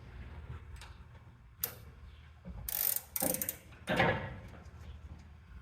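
A ratchet wrench works a rusty, stubborn bumper bolt on a 1994 Chevy K1500, giving short bursts of close, rapid clicking separated by pauses, the loudest run coming in the middle.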